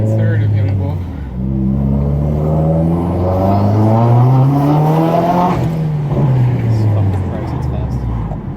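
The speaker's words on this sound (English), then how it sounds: "turbo's running really well right now" A 2015 Subaru WRX turbocharged engine fitted with a PRL charge pipe revs steadily, its droning tone climbing then dropping back, loud and close with no talk over it.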